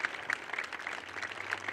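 An audience at a school band farewell event claps briefly for an honoree, a faint, distant patter of many hands heard for under two seconds.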